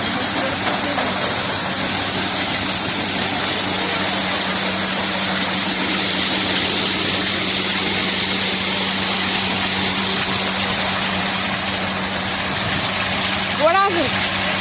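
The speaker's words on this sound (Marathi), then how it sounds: "आणि हे बघा, अशा पद्धतीने मशीन व्हायब्रेट होतंय." A wheat grading and polishing machine runs with a loud, steady vibrating hum and hiss, while someone talks over it and a short whistling sweep rises near the end.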